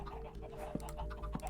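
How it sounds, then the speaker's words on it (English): Chickens in Minecraft cluck quietly with a few short soft calls over a low background hum, no voices present. "That is the sound of chickens making me some delicious food."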